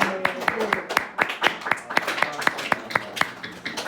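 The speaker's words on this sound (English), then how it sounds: "he wants to be clapped for" A small group of people in a classroom claps for Lucas, a steady run of sharp, evenly spaced claps that stays fairly close and moderately loud.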